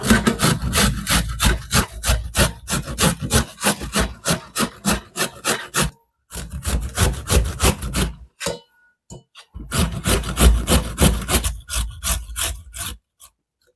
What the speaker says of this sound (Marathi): आता आपण खिसून घेणार आहोत मित्रांनो अशी एक आपल्याला खिसणी घ्यायची आहे आणि त्यावरती आपण हे खिसून घेणार आहोत